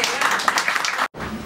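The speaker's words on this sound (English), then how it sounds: "I think it deserves a round of applause" Audience applause in a room, dense steady clapping from a crowd for about a second, then a brief cut to silence before clapping resumes.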